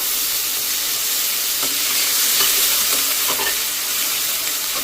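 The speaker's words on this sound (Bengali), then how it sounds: "পেঁয়াজ বাটা, রসুন বাটা, আদা বাটা একসাথে দিয়ে এটা ভালোভাবে কষাবো" Onion, garlic and ginger paste fry in a pan with bay leaf while being stirred, giving a steady close sizzle and hiss with scattered scraping strokes of the spoon, no voices.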